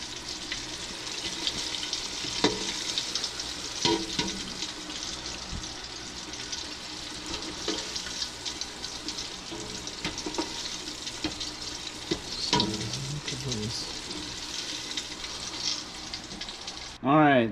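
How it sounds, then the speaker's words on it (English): Chunks of longnose gar deep frying in a fryer give off a dense, constant bubbling hiss, with scattered pops and crackles throughout, loud and close. "chunks of gar in the fryer"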